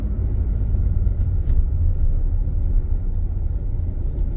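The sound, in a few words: car engine accelerating after clutch release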